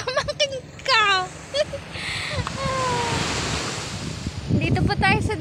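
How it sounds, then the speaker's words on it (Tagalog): Steady roar of sea waves and surf with wind buffeting the microphone, while voices chatter and call out over it at the start and end. "Dito po tayo sa dagat."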